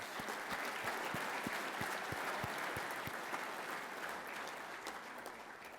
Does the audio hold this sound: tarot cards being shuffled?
no